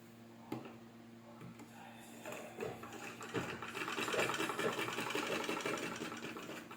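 A sewing machine stitching a frock bodice straight down from top to bottom: a few sharp clicks first, then a steady, close mechanical whir that builds and holds, with no talk.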